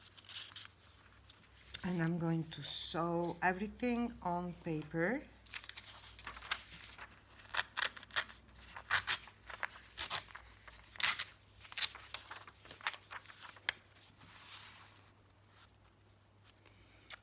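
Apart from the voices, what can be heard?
cutting paper for a handmade journal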